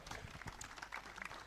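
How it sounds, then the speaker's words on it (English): Scattered applause from an audience at a talk on building wealth and careers with integrity, faint and distant, with dense overlapping claps lasting a moment. "Please clap for her"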